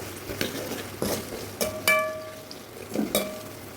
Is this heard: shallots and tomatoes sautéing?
yes